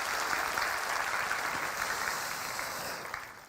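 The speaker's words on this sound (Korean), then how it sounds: "좋으신 하나님 앞에 박수로 영광을 돌려드리겠습니다" A Sunday worship congregation at Bethel Church in Jeongneung claps together, a full, even roar of hands that holds steady and then tapers off near the end, with no voices on top.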